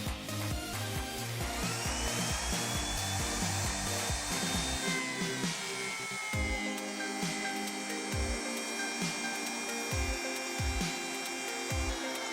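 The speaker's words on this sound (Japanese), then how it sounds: "トリマービットの回転が加工に十分な回転に達してから、対象物の側面とストレートガイドが離れないように注意しながら、まっすぐと一直線に溝の加工をしていきます" An electric wood trimmer router with a straight guide cutting a straight groove along wood, giving a steady high motor whine with a repeating low chugging pulse as the bit bites into the timber, close and continuous.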